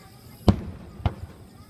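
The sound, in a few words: fireworks exploding at Inashiki fireworks festival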